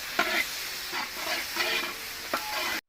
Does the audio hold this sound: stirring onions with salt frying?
yes